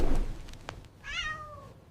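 A short cat meow in a Hindi children's story, one clear rising-then-falling call after a few soft knocks, close and moderately loud, alone without talk.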